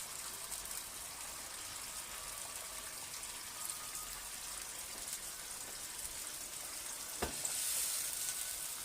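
Eggs frying in masala for an egg and potato gravy, a faint, even hiss of sizzling throughout with a single brief knock near the end, heard quietly without talk.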